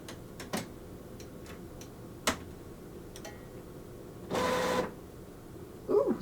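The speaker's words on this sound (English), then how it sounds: "Come on, printer, wake up." A printer warming up produces scattered clicks and ticks followed by a short whirring burst of its mechanism and a final clunk, heard close in a quiet room with no talk.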